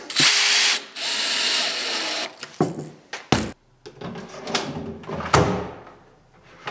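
A cordless drill screws drawer slide rails onto a freshly glued wooden drawer in a woodworking shop, with long whirring runs, then short bursts, clicks and knocks of the rails and wood, close by.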